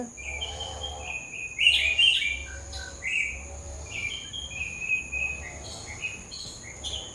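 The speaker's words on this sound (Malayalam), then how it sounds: "ഞങ്ങളോടൊപ്പം തന്നെ കിളികളും കൂട്ടായിട്ടുണ്ട് അപ്പോൾ അവരുടെ ശബ്ദങ്ങളും" Birds chirp and sing outdoors in a home garden plot in Angamaly, Kerala, with repeated bright calls and short trills at moderate distance over a low steady background hum.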